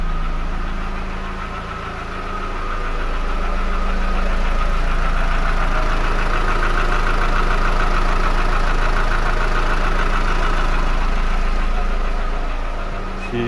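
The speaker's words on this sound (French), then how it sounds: "je laisse tourner le moteur" A VW Polo engine idles steadily after an oil and filter change with a Liqui Moly additive, a close, continuous mid-pitched rumble with a faint knocking texture and no talk over it.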